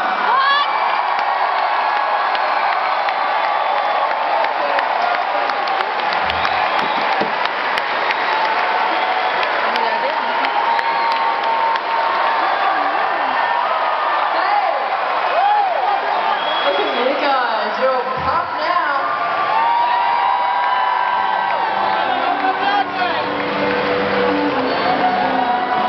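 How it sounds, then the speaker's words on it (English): Crowd of concertgoers applauding and cheering at a live John Butler show in Boston, with sustained clapping and whoops filling the whole stretch, loud and continuous. "I'd like to let you give a big round of applause."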